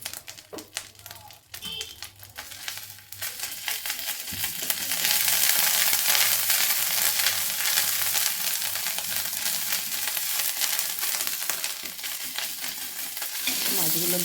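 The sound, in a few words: fish frying in a pan for fish curry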